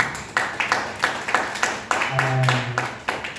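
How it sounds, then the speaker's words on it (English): Audience at the Motswako book launch claps in a steady, rhythmic beat of distinct hand claps at moderate loudness, with a short low hum passing under the clapping midway. "Let's give him a round of applause again."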